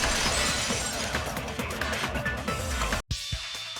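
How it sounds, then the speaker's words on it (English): A vase shatters as a sound effect in the Danganronpa video game, a loud sustained crash of breaking glass that cuts off sharply, followed by faint scattered tinkles. "If it wasn't the window, then what broke to make that sound? A vase."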